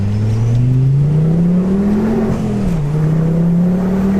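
A Ford Focus ST with a stock 225 bhp engine accelerates hard on a closed course, its engine note climbing steadily through the rev range with a brief dip at a gear change, loud and close throughout.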